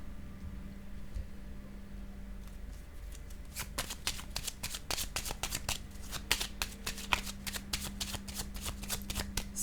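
Tarot cards are shuffled in a quick, crisp rattling run and then laid down, close and quiet over a faint steady hum.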